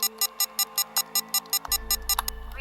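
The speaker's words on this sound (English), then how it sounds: "Master alarm, Commander." A spacecraft master alarm sounding, a rapid series of sharp electronic beeps in a steady rhythm, loud and close, joined partway through by a low droning rumble.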